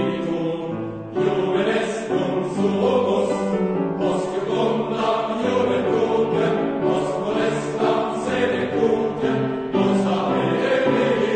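Choral rendition of the Latin ceremonial song Gaudeamus Igitur, voices singing a steady, solemn yet cheerful melody with rich harmonies, sustained and fairly loud throughout with no talking over it.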